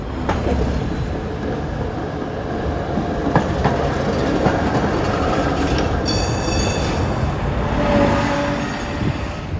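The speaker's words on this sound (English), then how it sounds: "here comes the Philadelphia trolley" A historic Philadelphia PCC streetcar approaches on San Francisco's Muni F line near Front and Market: rumbling steel wheels and track clatter, thin wheel squeals, and a brief chiming ring partway through, building steadily without talk.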